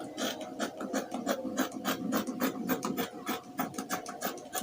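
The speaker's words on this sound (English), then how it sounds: "Okay, so I'm cutting out exactly the length." Scissors cut through fabric for shorts, a close series of quick rasping snips and rubbing scrapes repeating in an uneven rhythm, fairly quiet, with no talking.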